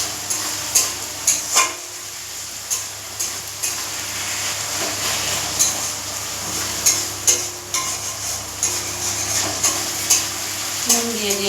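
Onion, tomato, garlic and dry chilli fry in a pan under a steady sizzle while a spatula scrapes and clinks against the metal in repeated sharp strokes, close and fairly loud, with no talking.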